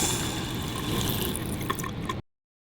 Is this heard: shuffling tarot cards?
no